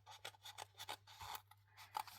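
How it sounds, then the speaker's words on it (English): Scissors snip around paper stickers in a quick series of close, quiet cuts, each a short crisp crunch with small pauses between. "So what we're going to do actually is cut them out."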